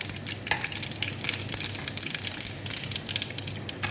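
Cumin, nigella and mustard seeds crackle and pop in hot oil for a tomato pickle, a dense close sizzle full of rapid sharp spits and crackles, with no talking.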